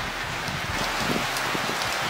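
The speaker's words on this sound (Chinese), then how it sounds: "刚回到湘西就下大雨了啊" Heavy rain falls in Xiangxi, Hunan, a thick, steady wash of noise that stays constant and close for the whole short stretch, with no one speaking.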